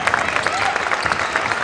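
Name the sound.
parents cheering at girls basketball game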